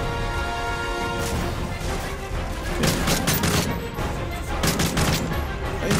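Call of Duty Modern Warfare 3 combat fills the scene with loud grenade blasts and bursts of rapid gunfire, sharp repeated cracks stacking over a dense rumbling battle din.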